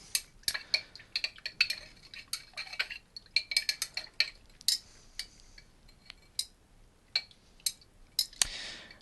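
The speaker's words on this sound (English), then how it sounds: "And stir that around because it's going to just drop to the bottom" Salted collodion chemical mixture with bromide being stirred, heard as a quick series of light metallic clinks and taps against a glass container, close and quiet with short gaps between strikes.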